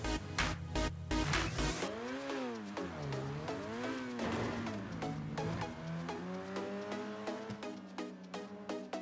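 A Lamborghini in the GTA V video game drives with a loud engine note that rises and falls in repeated revving sweeps, tires squealing, steady and close with no talk.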